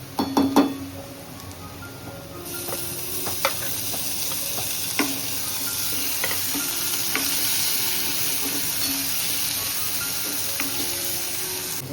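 Soft onions and freshly added tomato fry in oil in a pan, a steady close sizzle with a few metallic clinks of the spoon and stirring scrapes at the start and scattered throughout, unaccompanied by speech.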